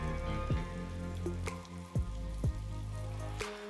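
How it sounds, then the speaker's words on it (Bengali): An egg scrambled in a hot pan beside long beans in a quick stir-fry, a soft steady sizzle broken by several spatula taps and scrapes, with music playing underneath. "এবার ডিমটাকে আমি স্ক্রাম্বলড মানে একদম ঝুরঝুরে করে ফেলবো।"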